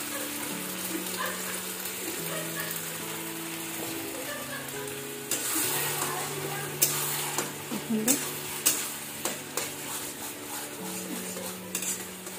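Potatoes fry in a pan for a homemade chokha dish, giving a continuous close sizzle. Stirring scrapes and utensil knocks grow more frequent later, with a faint voice in the background.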